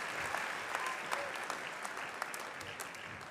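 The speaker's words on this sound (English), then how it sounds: "please give a round of applause for the graduates" A convocation crowd gives steady applause for Bachelor of Commerce graduates at a business school spring ceremony. The clapping is fairly quiet and distant, a continuous even patter with no voices over it.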